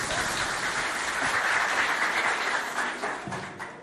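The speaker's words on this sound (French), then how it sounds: "On l'applaudit bien fort." An audience at a primary school quiz contest claps for a pupil's answer, dense steady applause that swells and then gradually fades out.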